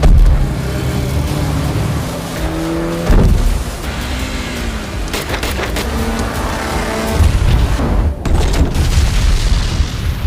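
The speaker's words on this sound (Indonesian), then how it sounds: "kapal yang ditumpangi Jack ngacang dan meledak di semak-semak" A boat explodes in a film scene, with heavy booming blasts and rumbling engine-like roars that surge and fall in several bursts, loud and without speech.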